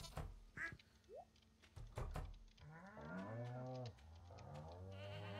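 Goat and other farm animals in Stardew Valley 1.5 make cartoonish bleats and quacks, several short calls in a row that rise to a louder sustained run of animal cries near the end.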